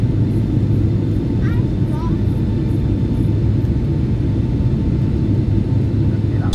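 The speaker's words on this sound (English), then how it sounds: "So we're here at the airport." Airport ambience with a constant low rumble of aircraft and engine noise, loud and steady, with a few faint higher chirps and tones passing over it.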